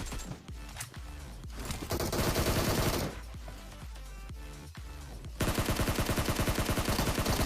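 Gunfire from PUBG Mobile, a video game, comes in rapid automatic bursts and fusillades separated by short pauses, loud and close, with the last stretch a dense, continuous volley.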